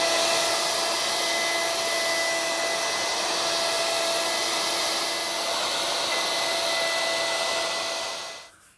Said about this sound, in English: The router does a pretty good job removing that material, but it leaves it a little rough